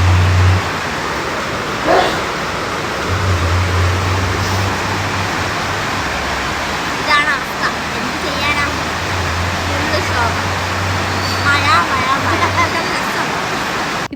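Heavy downpour drumming steadily as a dense broadband hiss outside a roadside tea shop, with intermittent low engine hum from passing traffic and voices talking over it.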